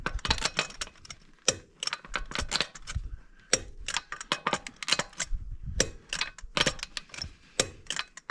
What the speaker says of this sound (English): now we're going to torque the wheels. 98 foot-pounds is what they call for.